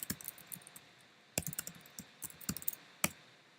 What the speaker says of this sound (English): if I start typing something